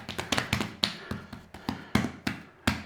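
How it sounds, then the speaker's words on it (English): Hands knock the air out of bread dough for cream cheese garlic buns, giving about a dozen sharp, close pats and slaps in an uneven rhythm with brief gaps between them. "just knock some of that air out of there"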